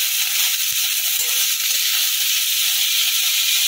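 Chopped tomato sizzling loudly in a hot pan for soya chowmein, a steady dense hiss filling the whole clip with a couple of faint utensil knocks.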